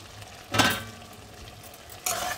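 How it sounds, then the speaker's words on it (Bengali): Bottle gourd and fried prawns are stirred in a pan, two distinct scraping sizzles of the spatula over a quiet low hiss, close and clear. "এবার এইভাবে নাড়িয়ে নেব"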